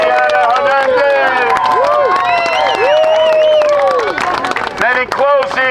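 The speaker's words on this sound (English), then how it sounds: "Let's have a great round of applause for Viviana" A crowd at a Bay Ridge street protest against possible migrant shelters claps and cheers for Viviana Hernandez, loud and sustained, with shouting voices rising over the steady applause.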